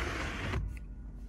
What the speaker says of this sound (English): Over here we have the side entrance door.